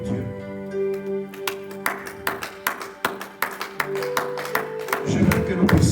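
A church congregation at an evening Holy Spirit meeting claps in a steady series of sharp, fairly close beats over sustained music, with voices present at moments, building to louder collective applause at the end.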